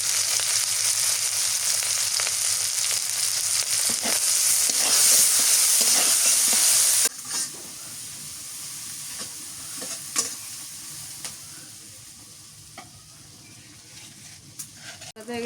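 Chopped onions frying in hot oil in a village kitchen, loud sizzling for the first half, then quieter crackle with scattered spoon scrapes as they are stirred.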